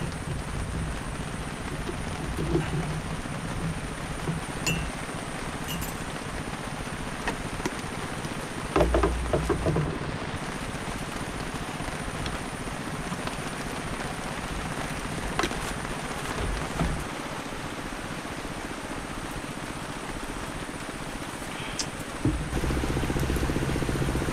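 Steady rain falls continuously across the whole stretch, a dense broadband patter with a low mechanical rumble underneath and a few brief thumps.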